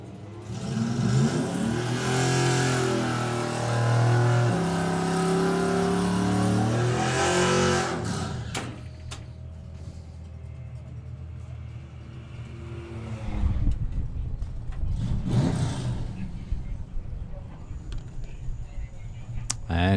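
Mazda MX-5 launching in a bracket drag race, a loud engine revving and pulling away through rising gear changes, then fading to distant track noise with a second burst of engine sound later.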